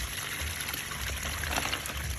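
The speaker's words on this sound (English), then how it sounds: "So after this, then you can drain the water gently." Water drains gently from a container used for stocking snails in a greenhouse, a soft continuous trickle and pour with a low rumbling undertone, steady and close, with no talk over it.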